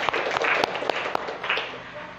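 Students in a classroom clapping to praise correct answers, a short burst of hand claps with sharp individual claps standing out, mixed with a voice speaking over it.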